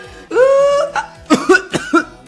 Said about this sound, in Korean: 실수로 걸걸하는 헛기침 소리가 나오고.